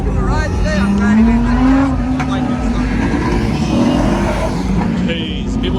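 Cars revving and driving hard at a large 2022 car meet in Minnesota, with a loud, continuous engine roar rising and falling close by and a voice speaking over it.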